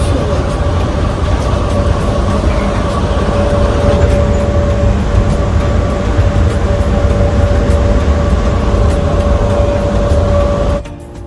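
A train carrying passengers between terminals at a Malaysian airport rolls along with a steady, loud rumble and a sustained hum, continuous throughout before easing off at the very end.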